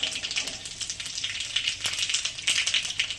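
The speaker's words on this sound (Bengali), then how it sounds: "কড়াইয়ে তেল দিয়েছি, দুটো শুকনো লঙ্কা, একটু পাঁচফোড়ন ফোড়ন দিলাম" Two dry red chillies and panch phoron temper in hot oil in a wok, a close, fizzing sizzle with bursts of crackling pops.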